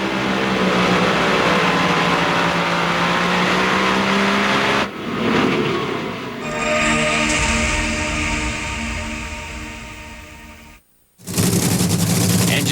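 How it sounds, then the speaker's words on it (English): Drag racing engines fire at the NHRA Mac Tools U.S. Nationals in Indianapolis, 2004. A loud, sustained crackling roar cuts out abruptly, followed by rising and falling engine tones, a brief silence, then another blast of roaring. "Engines have fired back here at the Mac Tools U.S. Nationals"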